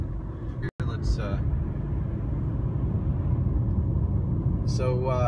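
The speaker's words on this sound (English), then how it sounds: "I'm driving." Steady low road rumble and engine drone inside a moving car on the way home, continuous and moderate, with a brief dropout near the start and faint sounds at the edges.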